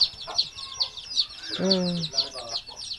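Chickens cluck at a rural farmhouse where ducks and pigs are also kept. Short clucks come close by over a steady high chirping in the background, with a louder burst of fowl calls midway.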